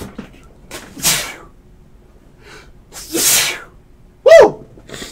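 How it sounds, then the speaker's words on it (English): Indoors in an office over trading cards, one person sneezes sharply and loudly near the end, after a couple of breathy exhales and rustles. "Had to sneeze all over everybody's cards on that one."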